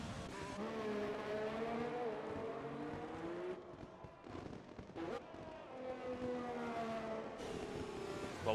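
Formula 1 cars in F1 2020 at the Singapore Grand Prix screaming past the line one after another, high whining engine notes rising and falling as each car passes close by, with brief gaps between them.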